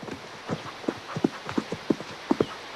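Horse hooves clip-clop at a steady walking pace, a string of distinct close thuds with faint rain-like patter in the background and no speech.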